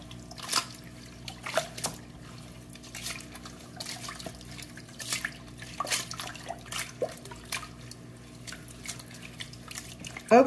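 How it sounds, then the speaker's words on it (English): A knitted bag sloshed gently about in water to wet it before felting, giving soft intermittent drips, trickles and splashes at close range, fairly quiet with a faint hum beneath. "Begin just by sloshing it about a bit, making sure it's all wet."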